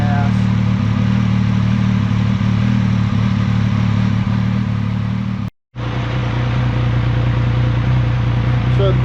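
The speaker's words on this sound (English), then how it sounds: "So the bike's been running for about 2-3 minutes." A motorcycle engine idling steadily after running a few minutes, a loud continuous low rumble with a brief cutout partway through.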